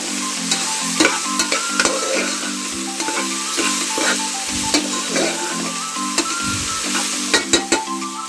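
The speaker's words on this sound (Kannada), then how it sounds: "ಉಪ್ಪು ಹಾಕೊಂಡ ನಂತರ ಮಿಕ್ಸ್ ಮಾಡ್ಕೊಬೇಕು." Sprouted horse gram fries in a tempering with salt while a spoon stirs it, giving a continuous sizzle broken by repeated scraping and clinking of the spoon against the pan, close and fairly loud, with no voices.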